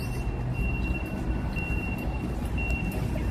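A steady high-pitched reversing beep sounds repeatedly at even intervals, faint and distant over a low rumble of traffic or engines, near Hudson Yards pier in New York City.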